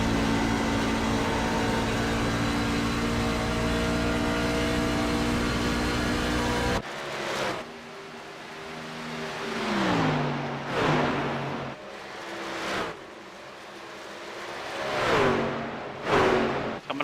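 Race cars roar around the oval at Charlotte in a steady loud engine drone, then individual cars sweep past one after another with rising and falling whooshes on the final lap.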